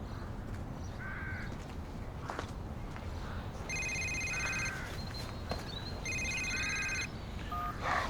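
A telephone rings in two electronic bursts of about a second each, clear over steady background hum in an indoor scene from a British TV soap, with no speech.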